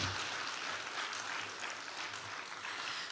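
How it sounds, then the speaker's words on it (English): Audience applause at a public health campaign launch event, a steady, fairly faint wash of clapping from a crowd that holds evenly throughout without voices. "Give him another round of applause."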